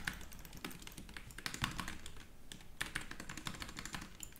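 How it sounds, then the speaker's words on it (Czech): Rapid clicking of a computer keyboard being typed on during gaming, close and fairly quiet, with irregular bursts of keystrokes and brief pauses. "Mě baví poslouchat ta klávesnice jenom."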